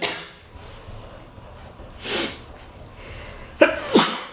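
Two sharp allergy sneezes burst out during a quiet health board meeting, the first softer and the second louder, with breathing between and no talk.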